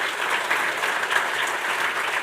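Steady round of clapping from a live audience at a hurling championship preview show, a dense, even wash of hands from a packed room with no voices over it.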